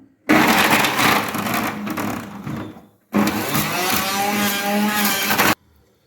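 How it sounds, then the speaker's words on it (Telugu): Loud juicer motor grinding lemon, ginger and turmeric in two close bursts, the first about three seconds long and the second about two and a half, with a brief gap between them and no talk. "ఫస్ట్ మనం నిమ్మకాయ అల్లం పసుపు జ్యూసర్లో వేసుకుందాం"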